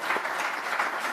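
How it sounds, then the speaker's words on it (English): A conference audience applauds its departing panel guests, a dense, steady wash of many hands clapping at moderate volume with no talk over it. "Let's give them a huge round of applause."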